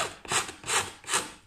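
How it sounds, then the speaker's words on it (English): A hand file rasps across the cut edge of a slim kitchen worktop in three steady strokes, each a rough, close scraping sweep with brief pauses between. "For this purpose, file is fine."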